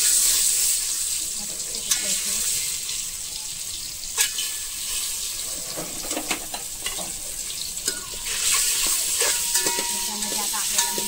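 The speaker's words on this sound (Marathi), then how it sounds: "त्याच्यामध्ये आपल्याला अंडी फ्राय करून घ्यायचे" Eggs fry in hot oil dusted with turmeric for an egg biryani, giving a steady close sizzle with scattered scraping clicks from stirring and a brief swell of bubbling near the end.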